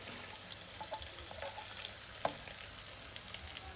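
Eggplant pieces hit hot oil with ajwain, giving a quiet, steady sizzle and crackle with a few soft pops and one sharp clink partway through, no talking.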